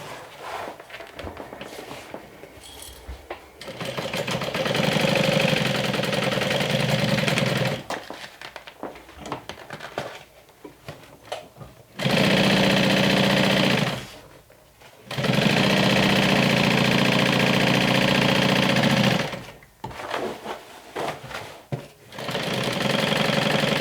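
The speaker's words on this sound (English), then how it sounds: "Top stitch the seam allowance up." A sewing machine top stitches the seam allowance of a medium crossbody tote in several long, fast, steady runs, loud and close, separated by short pauses with quiet handling noises.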